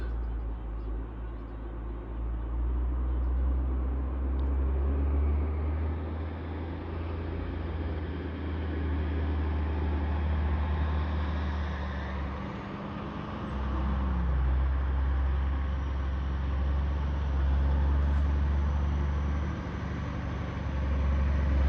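Gravel truck arriving with a load for a driveway being graded, its diesel engine rumbling low and steady as it approaches, with a gear or pitch shift partway through and no talk.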